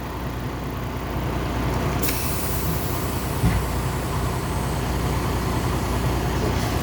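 Air hissing steadily from the rear trailer brake of a semi truck as it loses pressure during an inspection, a constant broadband rush with a low engine idle rumbling underneath and a soft clunk partway through.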